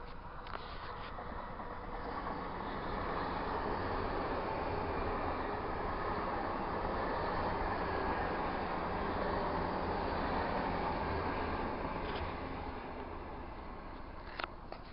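A long train rumbles steadily past on a coastal track in eastern Scotland, a continuous broadband roar with faint clicking of wheels over rail joints that holds for the whole stretch.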